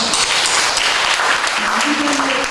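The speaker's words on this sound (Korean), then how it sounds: "박수합시다" A church congregation at a Sunday service claps together in a steady, full burst of applause, with faint voices underneath.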